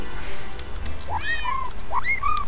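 A Minecraft cat meows twice in quick succession, clear and close with rising-falling tones over a low game background hum.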